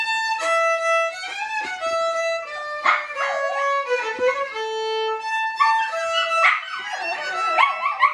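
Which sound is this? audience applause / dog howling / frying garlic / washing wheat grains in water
dog howling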